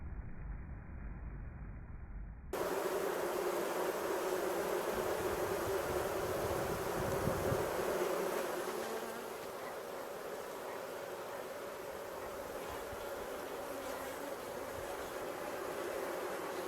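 Honey bees hum steadily around a hive during an August beekeeping session in Newfoundland, a continuous dense buzz that starts abruptly after a quiet moment and holds fairly loud and close throughout.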